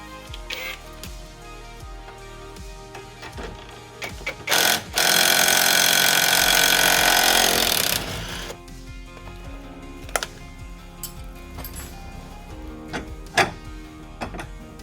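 Metallic clicks and ratcheting as a bolt is worked out of a car's wheel hub carrier near a rubber bushing, with a loud steady burst of tool noise for about three seconds mid-clip amid scattered ticks and taps.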